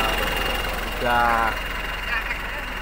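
Mitsubishi Canter Euro 4 truck from 2022 idles through a flexible exhaust, a steady low rumble under nearby talk with a short rise in revs midway.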